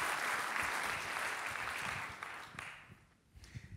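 A crowd at a Long Beach civic event applauds in a dense, sustained wash of clapping that gradually fades, leaving a few scattered claps at the end.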